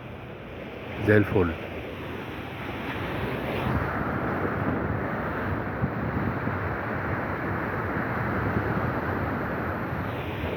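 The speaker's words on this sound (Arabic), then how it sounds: "مية البحر جميلة وصوت البحر جميل، موجة خفيفة" Gentle sea waves and light wind on the Alexandria shore at Cleopatra's Tongue, a steady soft wash of surf with wind rumble on the microphone, after someone speaks briefly near the start.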